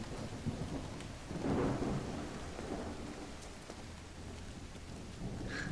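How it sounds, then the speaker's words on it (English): Steady heavy rain with rolling thunder in the Call of the Elder Gods video game at Everhart Manor, a continuous downpour with a louder thunder swell early on, no voices. "It's raining cats and dogs here."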